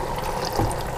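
Water is poured from an emptied gravy can into a stew of groundhog meat in a pressure cooker, a steady close splashing pour with no voices.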